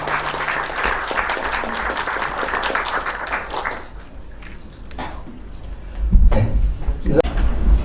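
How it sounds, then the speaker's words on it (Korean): An audience at an academic seminar on private investigation rules applauds loudly for several seconds, then the clapping thins out into scattered claps and a few thumps and knocks. "큰 박수 부탁드리겠습니다."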